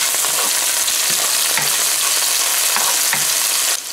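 Onions, scallions and celery frying in a pot for a stewed cabbage and chicken dish, giving a loud, steady sizzle with occasional stirring scrapes throughout.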